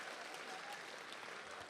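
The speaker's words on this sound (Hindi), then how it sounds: "एक बार तालियां बजा के बता दीजिए सब अच्छा हो रहा है" Sustained applause from the audience at a ghazal and shayari recital in Dubai, a continuous even patter of many hands, faint and distant throughout.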